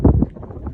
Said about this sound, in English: this is the wind that is coming our way